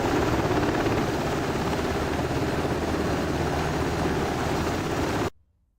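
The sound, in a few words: helicopter in DCS World video game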